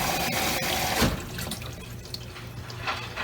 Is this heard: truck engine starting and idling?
no